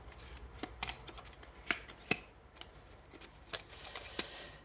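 Tarot cards shuffled by hand in a quiet room, a close, soft run of papery riffles and flicks with a few sharper snaps, steady and unhurried with no talk.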